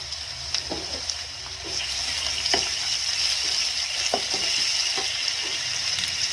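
Onions frying in a pan as garlic paste goes in for a Rajasthani kachri vegetable dish, a steady soft sizzle with a few light clinks and stirring taps, close by and without talk.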